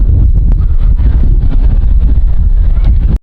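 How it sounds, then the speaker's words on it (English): Loud, steady wind buffeting a microphone at Utah's Hogle Zoo, a low roaring rumble that runs without a break almost to the end. "it's very, very windy right now"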